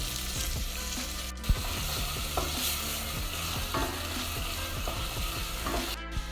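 Onions, diced carrot and red pepper sizzle steadily in a hot pan while a utensil stirs and scrapes through them now and then, close by and with no voices.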